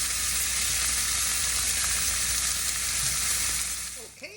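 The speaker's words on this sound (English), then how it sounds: "Just gonna put those in there and brown them." Slices of andouille sausage browning in a hot pan, making loud continuous sizzling and crackling frying noise that holds steady before tapering off near the end.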